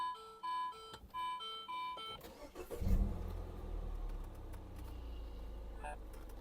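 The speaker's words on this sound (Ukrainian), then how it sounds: "Давайте заведемо, запустимо двигунчик, послухаємо, як він працює" A 2014 Mini Cooper S 1.6 petrol engine with automatic gearbox cranks and catches near the three-second mark, then settles into a steady low running rumble; a few electronic chime tones sound before it starts.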